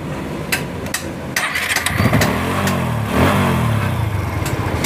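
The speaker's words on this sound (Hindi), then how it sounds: "तो बाइक अभी स्टार्ट हो गया" A TVS Apache RTR motorcycle cranks with its self-starter after a battery and relay fault was fixed, then catches and settles into a steady, close, loud idle.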